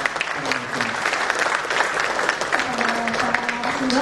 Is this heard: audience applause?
yes